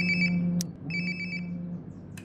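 In Life is Strange: Before the Storm, a mobile phone rings with bright, rapidly pulsing electronic chirps in two clear bursts, a sharp click between them and a low steady drone underneath.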